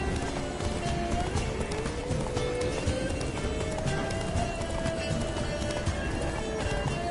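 A horse gallops in The Witcher 3 video game, its hoofbeats a steady, fast rhythm that runs the whole time over a constant tonal background.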